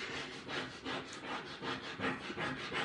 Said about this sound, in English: I got this little scrapey tool here that can go down and dig into this